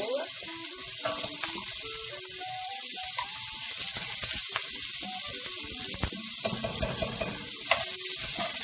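Chopped onion fries in a hot stovetop pot still coated with beef seasoning while being cooked for stroganoff. It gives a steady close sizzle with repeated scraping stirs throughout and no talking.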